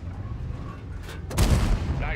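A tank cannon in World of Tanks Steel Hunter mode fires amid battle noise: a faint earlier pop, then a loud, heavy boom with a rumbling tail about halfway through.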